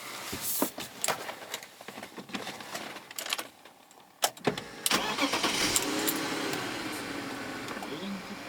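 BMW E39 525i M-Sport Touring with a manual gearbox, heard as door and cabin clunks and rustling before the engine cranks and catches, then settles into a steady idle close by.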